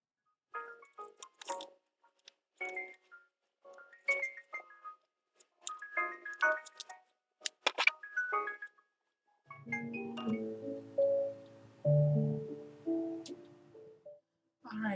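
Close, papery flicks and riffling snaps of tarot cards being shuffled in uneven bursts, then a steadier stretch of low humming, murmuring sound.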